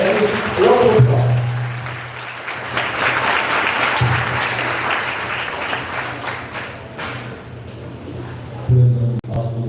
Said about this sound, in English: Put your hands together. Round of applause.